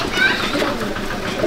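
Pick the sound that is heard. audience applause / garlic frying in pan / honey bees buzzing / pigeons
pigeons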